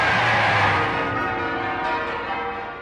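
Church bells ringing out across Britain in celebration for the first time in two and a half years, a dense wash of overlapping peals sustained loudly throughout and fading slightly toward the end.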